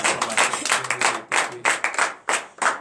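A congregation claps in acclamation during a Saturday morning prayer service, a dense run of sharp hand claps swelling in loud bursts with brief gaps, close and reverberant, no talking over it.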